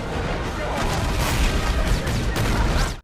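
A large building explosion in a film scene, a dense, loud roaring blast with crashing debris that fills the whole span without a break.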